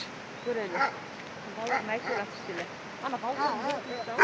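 A dog barks a few times in short yips during a walk in a summer mountain pasture, heard nearby while people talk over it.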